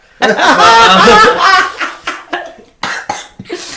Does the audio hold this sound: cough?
yes